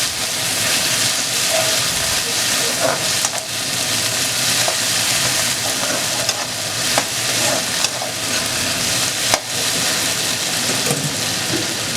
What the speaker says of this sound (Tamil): இப்போது தக்காளியை நல்லா வதக்கி விட்டுக்கலாம்